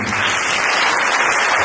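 A concert audience gives loud, dense, continuous applause, the clapping steady and close with no pauses.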